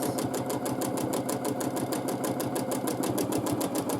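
A sewing machine runs steadily through free-motion quilting, its needle pounding in a fast, even rhythm close by, with a continuous mechanical hum beneath and no voices.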